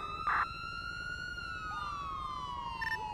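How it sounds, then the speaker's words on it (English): Police car sirens wail in a police video game, a steady sweeping tone sustained throughout with a faint background rumble and no talk. "everybody wants to turn off their siren"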